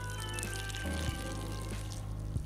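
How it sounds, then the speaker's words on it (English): Water pours steadily from a turned-on faucet in the Hitman 3 video game, a continuous close splashing stream alongside a low game music drone, with no speech. "At this point in time, we're just going to turn the faucet on."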